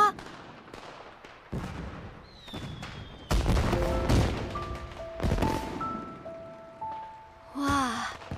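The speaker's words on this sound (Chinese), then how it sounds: "烟花。" Fireworks burst at night in a series of booms and crackles with whistling streaks, loud and close, spaced over several seconds, followed by a brief exclamation.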